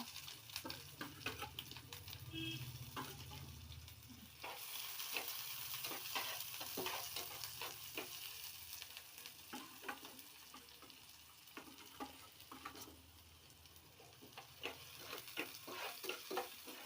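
Onion frying in a pan gives a steady sizzle, with repeated scraping and stirring clicks from a spatula throughout and no talking.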